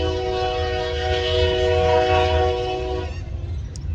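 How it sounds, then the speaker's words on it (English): A passing train sounds its horn in a loud, sustained blast over the rumble of the rail cars, then the horn cuts off and the train noise fades slightly. "It'll honk 1 or 2 more times and that'd be it."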